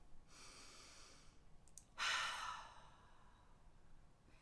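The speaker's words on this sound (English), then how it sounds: "take a nice deep breath in" A person taking a slow, deep breath in during a calm guided exercise, a soft airy inhale followed by a stronger breathy release, close and quiet against a faint background with no talk.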